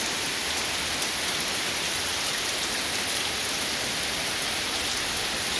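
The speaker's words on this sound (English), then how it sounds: "Say it's raining hard." Heavy rain pours steadily in a dense, even hiss that never lets up, with no voices over it.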